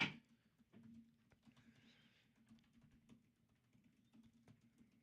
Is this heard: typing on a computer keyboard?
yes